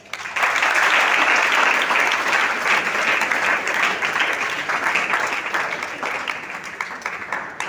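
A school investiture ceremony audience breaks into sustained applause, a dense, loud wash of many hands clapping that starts abruptly and holds steady for several seconds before easing slightly toward the end.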